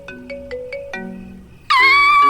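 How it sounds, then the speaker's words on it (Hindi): A mobile phone ringtone plays a short run of plucked chime notes, then jumps into a louder, bright warbling melody that continues steadily to the end, with a faint low hum beneath. "मेरी फोन की रिंगटोन सुन के डर गई?"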